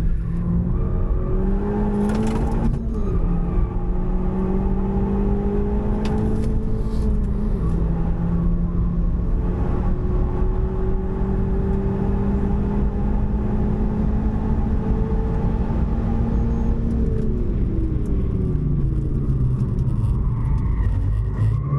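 A Renault Megane Trophy-R at racing speed on Balaton Park Circuit, with its engine droning loud and close, rising through the gears, then dropping as it brakes hard and slides deep into a chicane.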